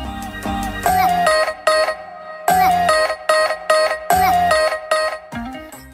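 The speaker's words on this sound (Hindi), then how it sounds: "और हम जल्दी से बूट कर लेते हैं Realme XT को।" Realme XT smartphone powering on with a bright, chiming boot-up jingle: a melodic tone sequence repeating in roughly three phrases, loud and close, with no voices.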